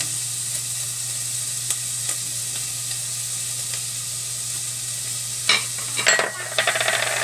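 Patola, a sponge gourd, sizzles steadily in a hot pan, with a constant bright hiss and a low hum underneath, then a few louder clatters and scrapes of stirring near the end, with no voices.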